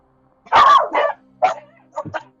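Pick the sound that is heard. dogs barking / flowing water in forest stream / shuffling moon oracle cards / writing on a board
dogs barking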